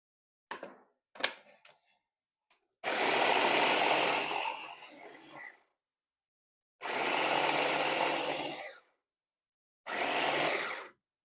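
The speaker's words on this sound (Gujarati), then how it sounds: "તો આ ચોપ કરવા માટેનું મશીન છે, આપણે મિક્સરને ન લેવું પડે" An electric chopper machine grinds spice masala for a stuffed vegetable curry in a home kitchen: three loud whirring bursts of several seconds each, separated by silence, with a few small clicks and knocks of handling before the first run.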